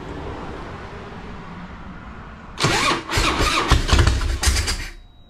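A 2005 Harley Davidson Fatboy CVO motorcycle cranks and fires up over a low background hum, its engine sputtering and catching in several loud, uneven bursts before cutting out.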